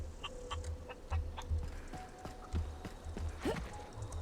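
A chicken clucks in the video game The Outer Worlds, with several short, sharp clucks in an irregular rhythm over soft low thuds and quiet game ambience, and no speech.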